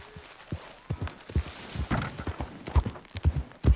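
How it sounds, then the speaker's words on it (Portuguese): Horse hooves clatter in Red Dead Redemption 2, a quick uneven run of sharp clip-clop hits on hard ground, close and fairly loud, with no talk over them. "Vou pegar o cavalo lá da esquina, o iluminado"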